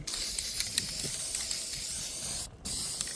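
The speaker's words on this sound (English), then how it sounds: "you can spray paint just about anything and make it look brand spanking new again" Rust-Oleum spray paint hissing steadily from an aerosol can outdoors on a breezy day, one long continuous spray with a brief break near the end before it resumes, close and fairly loud.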